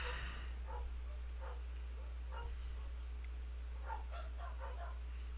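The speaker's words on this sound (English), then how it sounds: "gotta love it when the dog's gotta bark at everything" A dog barks repeatedly in the background, faint and scattered across a few seconds, over a loud steady low hum.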